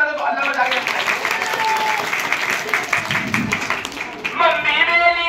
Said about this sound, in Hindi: बच्चों एक बार ताली बजा दो